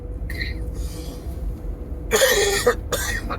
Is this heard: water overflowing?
no